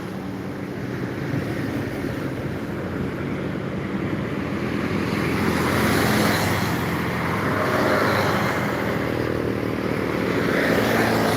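A heavy tronton truck travels the Jalan Lintas Timur highway near Palembang, giving a loud, steady broadband road roar that swells toward the middle and stays close, with no voices.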